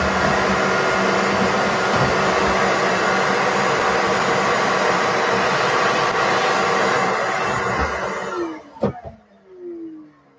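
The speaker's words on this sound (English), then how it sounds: "So it's always good to have a vacuum set up, so you can clean up your stuff right away." A shop vacuum in a woodworking shop sucks up plywood cuttings, a loud steady whining roar that runs for about eight seconds before the motor shuts off and winds down.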